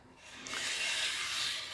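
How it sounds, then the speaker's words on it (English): Sandpaper rubbing over a wooden bass guitar body, a steady close rasping scrape that swells after a brief quieter start and carries on evenly to the end. "then we'll sand this down."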